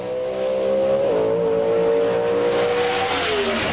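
NHRA Pro Stock drag race cars roar down the strip at the 2004 Las Vegas Nationals, with a loud, steady engine drone that climbs and shifts in pitch as they accelerate, close and continuous with no talk.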